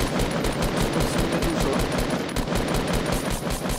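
Rapid automatic gunfire in a shooting video game, a dense sustained burst of evenly spaced shots, loud and continuous with no talking.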